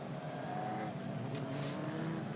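Ginetta G55 race cars rolling through a formation lap at Mugello, their engines a steady, moderately loud rumbling drone with no sharp revving.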